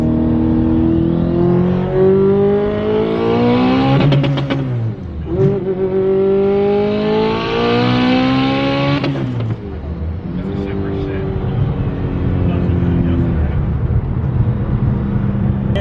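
A 1000hp Subaru STI revs hard and accelerates through several gear changes, engine pitch climbing steeply and dropping at each shift, loud and close from inside the packed car, with people talking over the engine.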